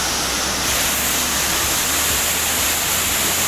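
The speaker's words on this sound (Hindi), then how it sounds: "और ये अपना वाटरफॉल।" Kendai waterfall at Morga, Korba, with water crashing continuously in a dense, broad roar that stays steady and close throughout.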